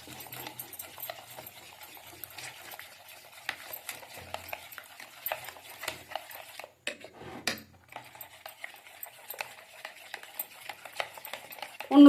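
Spoon or whisk beating yogurt with salt for dahi vada in a bowl, a steady scraping, clattering stir that keeps going at close range, with a couple of short pauses, and no talking.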